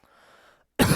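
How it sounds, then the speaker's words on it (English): A single loud, abrupt cough bursts out close to the microphone near the end, after a short stretch of faint background sound. "Oh man, that was a cough for you."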